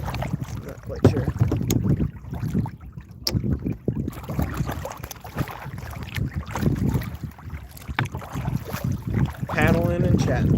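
A kayak paddles along open water, with soft rhythmic strokes and splashes under steady wind buffeting the microphone, while people talk faintly nearby.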